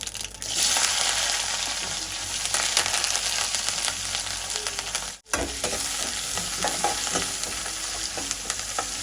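Onions, mustard seeds, fennel, green chillies and curry leaves fry in hot oil, a loud, continuous crackling sizzle close by with a brief stirring break midway and no voices.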